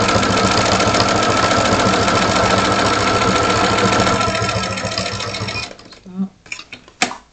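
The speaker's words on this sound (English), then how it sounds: "Drop your needle, stitch, and then back stitch." A sewing machine stitches with a steady, fast, loud mechanical whir that winds down and stops, followed by a few brief clicks and clunks as the needle is adjusted.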